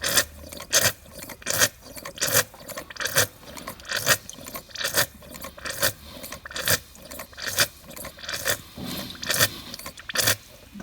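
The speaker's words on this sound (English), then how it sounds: "So that's pumping perfectly." Rhythmic mechanical pulsing with scraping, rasping strokes repeating roughly every half second, steady and close: a diaphragm fuel pump on a Suzuki Quad Runner, driven by blowing and sucking on its vacuum line.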